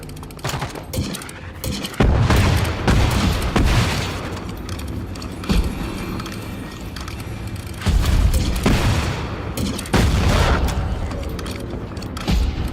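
Gunfire in the Generation Zero video game, repeated loud bursts of rapid shots and booming blasts in clusters, close and forceful, with quieter gaps between volleys.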